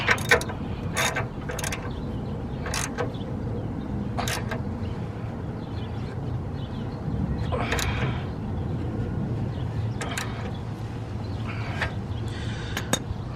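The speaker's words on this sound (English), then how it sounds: "So let's tighten these real quick." Ratchet clicking in short bursts while tightening coilover bolts on an R34 Skyline in a garage, sharp repeated clicks at an irregular pace over a low background hum, close by with no talking.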